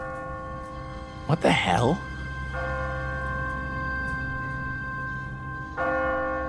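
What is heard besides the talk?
automatic church bell ringing in the video game The Walking Dead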